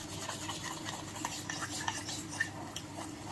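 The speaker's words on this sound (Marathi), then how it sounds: "असला चमचा घ्यायचा, ह्याच्यानं काय होतंय चांगलं असं मिक्स करता येते आपल्याला." Spoon stirring chili powder and spices into a thick batter in a bowl, a close, continuous scraping and mixing with soft clinks of metal against the dish, no talk.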